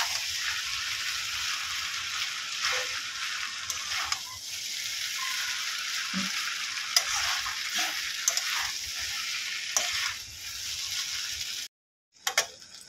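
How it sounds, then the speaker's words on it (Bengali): Chow mein noodles sizzle and fry in a pan while being stirred and mixed, a steady close hiss with scraping and clinking through most of the stretch, then a brief drop to silence near the end. "ভালো করে একসঙ্গে সবগুলো মিশিয়ে নেব।"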